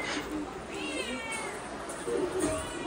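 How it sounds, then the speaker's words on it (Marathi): A cat meows several times in drawn-out cries at close range, mixed with people talking in a busy indoor setting during Ganpati festivities. "मांजर नको मारू."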